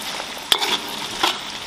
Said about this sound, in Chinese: 然后把切好的海椒放进来